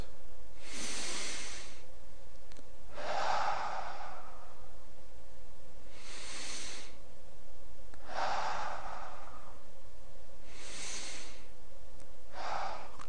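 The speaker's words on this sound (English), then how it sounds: "I'm going to just relax and take 3 more breaths." Slow, steady breaths drawn in and let out while a person balances in yoga tree pose, in roughly five long cycles, each soft hissing inhale and exhale close and clear, with no talking.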